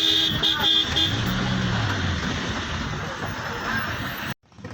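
Heavy road traffic near Mangaon, with car horns tooting several times early on over a constant rumble of nearby engines, loud and close, before the sound cuts off abruptly near the end.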